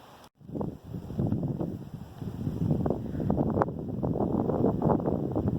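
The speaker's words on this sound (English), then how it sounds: "apparently I picked a very windy day to do this on" Steady wind buffeting the microphone outdoors, low rumbling gusts with rustling, continuous and fairly loud throughout.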